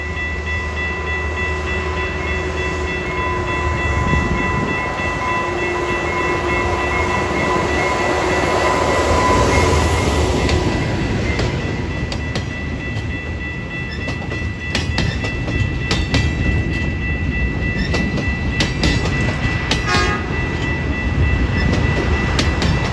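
A freight train of flat cars, one carrying an excavator, rolls past with a loud continuous rumble and rhythmic clickety-clack of wheels on the rails, lasting the whole stretch without a break.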